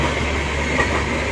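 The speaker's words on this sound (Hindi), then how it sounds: "देखते हैं कौन सी ट्रेन है ये।" Karnataka Express passenger train, running Yesvantpur to Hazrat Nizamuddin, rumbles past close by with a steady, loud rolling roar and faint wheel clatter, no voices.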